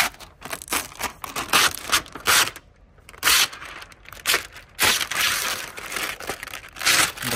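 Protective film peeled and torn off a 2009 Mercedes CL63 AMG, close crinkling and ripping in uneven bursts separated by short pauses, with no speech.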